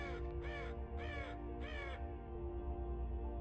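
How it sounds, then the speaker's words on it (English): Within the video game Voices of the Void, a crow caws three times in a measured sequence, fairly distant and faint, over a steady low ambient drone that continues after the calls stop. "Why did I hear a crow?"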